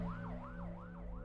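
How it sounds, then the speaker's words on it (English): A wailing emergency siren rises and falls in a steady repeating sweep, played as a sound effect in a podcast, with a constant low engine hum beneath it and no talk. "he could hear sirens wailing in the distance as cars and trucks sped towards his house"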